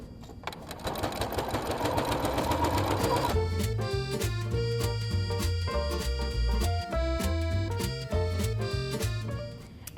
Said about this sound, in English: then we're going to sew and bind